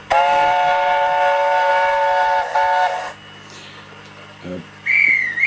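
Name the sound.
long steam whistle from Hornby Mallard model locomotive sound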